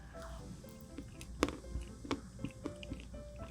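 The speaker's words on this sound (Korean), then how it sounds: "이게 초콜릿 청크도 같이 들어있어가지고 오독오독 씹는 맛까지 좋아요" Someone chews a convenience-store chocolate bread studded with chocolate chunks, making faint, close, crunchy bites and soft squishy chewing at an uneven pace, with no talking.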